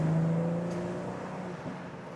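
Driven in Sport Plus mode on the Autobahn, a BMW M440i or Audi S5 accelerates with a strong, steady engine drone heard from inside the cabin, its tone holding then easing slightly as road noise fills in.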